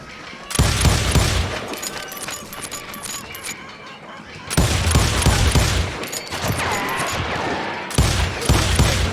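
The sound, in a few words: gunfire from the video game Call of Juarez Gunslinger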